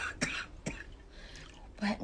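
Someone who has been ill for a week gives three short, harsh coughs spread across a quiet indoor scene in a 2008 Malaysian television drama.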